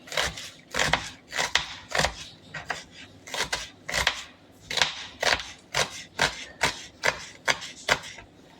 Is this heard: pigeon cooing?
no